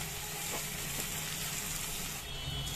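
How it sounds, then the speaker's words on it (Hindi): Coarsely ground garam masala frying with onions in a pan for mutton stew gives a steady, close sizzle that runs unbroken, with no voices. "ये जो गरम मसाले हमने मोटे मोटे कूट के रखे थे ये भी डाल देंगे, थोड़ा सा इसे भी भून लेंगे"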